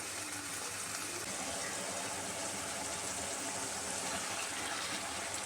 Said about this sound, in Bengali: এবার দিয়ে দিচ্ছি পরিমাণ মতো জল।